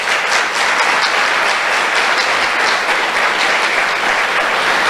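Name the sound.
church congregation applauding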